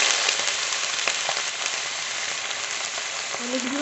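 Fish curry with salt and turmeric sizzles steadily in a pan, a bright, close hiss with small crackles, a brief scrape, and faint voices near the end.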